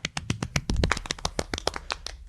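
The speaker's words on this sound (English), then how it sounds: "And that is Anonymous's third golf clap." A quick run of light, sharp hand claps, a sparse golf clap of about twenty crisp slaps in two seconds, close and alone with no talk.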